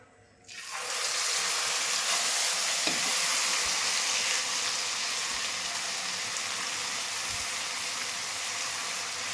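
Milk-soaked semolina stirred into plenty of hot ghee in a pan for Makhandi halwa gives a steady, close, sizzling hiss that starts after a quiet moment and carries on evenly, with faint scraping from the stirring.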